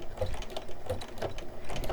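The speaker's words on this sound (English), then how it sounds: "So do a quick little back stitch in it." A sewing machine runs a quick back stitch on appliqué fabric, a close, steady whirring chatter of rapid needle clicks lasting about two seconds, with no voices.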